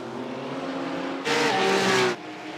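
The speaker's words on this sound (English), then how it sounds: "to the rear end of the BMW M4 GT4 car of Marius Zug" A BMW M4 GT4 race car engine during an endurance race holds a steady drone, then swells into a loud, bright roar for about a second as it passes close, before dropping back.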